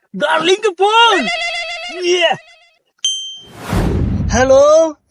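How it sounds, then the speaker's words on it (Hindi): A telephone gives a brief bright electronic ring between stretches of lively talk, with a short noisy burst just after it, all close and fairly loud. "अरे डार्लिंग के फोन।"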